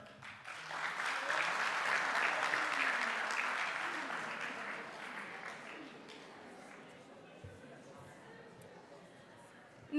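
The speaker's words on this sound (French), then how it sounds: "À présent, que chacun s'applaudisse lui-même et qu'on applaudisse tout son cœur l'école." At a school student debate, an audience claps warmly, the applause swelling early and then gradually thinning and fading, with a few murmuring voices underneath.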